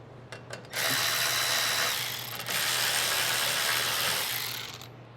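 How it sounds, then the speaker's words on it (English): A 5/16 socket driven against the carburetor bolts of a Toro Power Max 726 OE snow blower gives a few quick clicks, then a sustained loud whirring buzz with a brief dip partway through, close and alone. "Using a 5/16 socket, I'm going to take the bottom two out."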